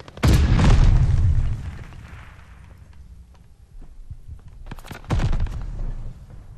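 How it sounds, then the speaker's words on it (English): Stun grenade blasts in Call of Duty Vanguard: a loud, booming detonation right at the start, fading into a rumbling tail, then a second sharp bang a few seconds later. "Throwing stun grenade."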